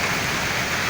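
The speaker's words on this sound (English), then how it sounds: "It's rain, really." Heavy rain falls during a flood on a road in Abuja, a dense, loud, continuous hiss of rain pouring down with no break and no voices.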